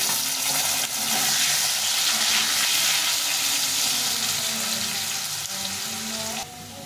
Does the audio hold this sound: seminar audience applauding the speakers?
no